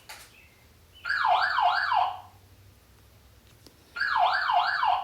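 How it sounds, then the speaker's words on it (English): An alarm siren from a Luna 2K indoor security camera sounds in two loud, wavering electronic bursts about a second long each, with a quiet gap between them and no talking. "That's what the alarm sounds like."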